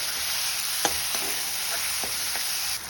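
Brinjal (eggplant) sautéing in oil for a Chidambaram-style kathirikai gothsu, a steady close hiss of frying with a few soft spoon scrapes and taps against the pan.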